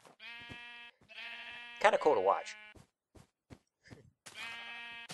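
Sheep in a Minecraft-style game bleat in several loud, close, wavering calls, repeated with short gaps, while someone talks over them.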